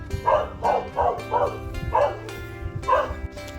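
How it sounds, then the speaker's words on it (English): Several dogs barking in a quick repeated rhythm, yippy and moderately near, about six barks over a constant background hum. "there's so many dogs around today. And they're loud, really loud."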